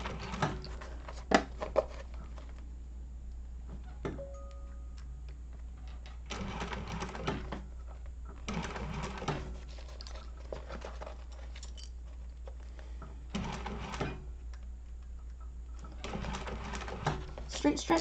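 A sewing machine stitches binding on the Zip-N-Grip project in several bursts of rapid mechanical whirring, each lasting one to two seconds, separated by pauses. A voice can be heard in between, over a steady low hum.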